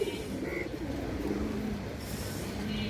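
A large female Bagha pigeon coos softly in a loft, a low murmuring call over steady background noise.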